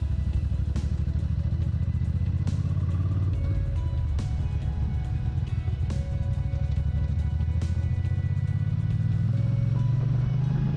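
Ducati 750SS motorcycle engine pulling up through the gears, a loud, steady, close rumble with the pitch climbing and dropping between shifts, with a few sharp clatters along the way and no talk.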